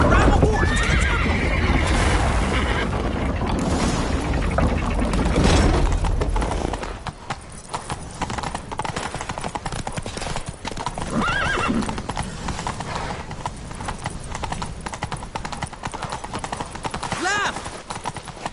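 Rapid hoofbeats clatter in a steady galloping rhythm alongside a horse's whinny in The Witcher 3 video game, with loud action noise and shouting voices early on, then hooves continue alone.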